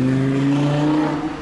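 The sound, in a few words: car driving past on a Berlin street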